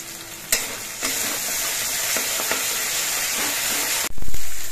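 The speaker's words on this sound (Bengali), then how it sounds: "মশলাগুলো কষানোর সময় এর মধ্যে অল্প একটু চিনি দিচ্ছি।" Spice masala paste frying loudly in a pan with a steady dense sizzle and hiss, punctuated by a few scraping stirs, ending in a sudden louder burst of hissing; no speech.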